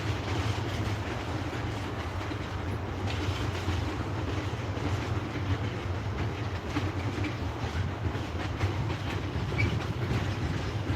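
A Class 66 freight locomotive rolls along the tracks at Basford Hall Sidings in Crewe, a steady, loud rumble with wheel noise on the rails that holds for the whole stretch.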